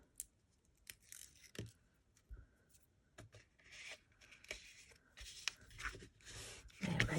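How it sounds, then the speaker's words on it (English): Tape peeled off a folded paper pillow box, quiet close-up scratchy rips and rubbing bursts of paper handling, scattered and intermittent with a louder tearing rasp at the end. "take the tape off."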